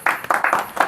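A few people in a podcast studio give a short, close burst of clapping, with four or five distinct clusters of slaps in under a second.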